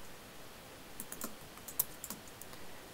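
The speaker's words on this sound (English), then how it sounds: "you can click, and then you can just start typing." Quiet keystrokes on a Mac computer keyboard, a short irregular burst of soft clicks close by in a silent room, typing entries into Mathematica.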